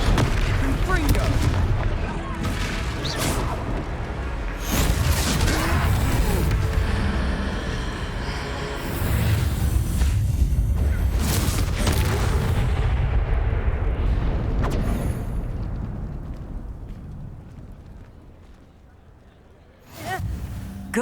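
Confringo blasting spells exploding in Hogwarts Legacy during a troll fight in town, heavy repeated booms layered in loud game battle noise with characters shouting.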